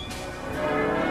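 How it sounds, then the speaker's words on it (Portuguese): Church bells ring furiously in revolutionary Paris, a dense, continuous clangour of overlapping metallic tones that fills the whole short stretch at steady loudness, with no voices. "o dia nasceu ao som de furiosas badaladas"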